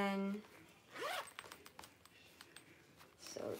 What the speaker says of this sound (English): has a zipper compartment inside.